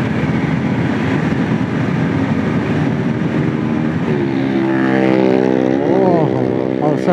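A motorcycle speeds along the 300 Feet Purbachal Expressway, with constant engine drone and wind rush. The engine's whine climbs in pitch toward the end as the bike accelerates, and a rider's voice is faintly present.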